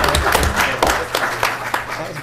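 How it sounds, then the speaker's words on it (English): Clapping from attendees at a city commission meeting, a short burst of hands with a few distinct claps over room murmur. "You can clap."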